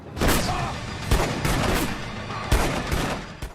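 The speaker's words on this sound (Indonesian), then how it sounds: "Gordon dan Jack terkena tembakan Ghost hingga mereka jatuh tersungkur." A rapid volley of loud gunshots in a heist film, several sharp cracks in quick succession with echoing tails, close and dominant.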